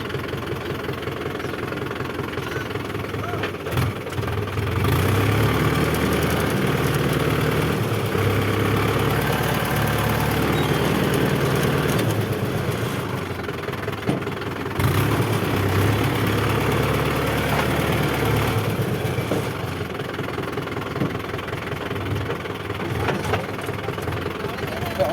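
A tractor engine runs steadily with a low, knocking idle rumble throughout, with occasional faint voices nearby.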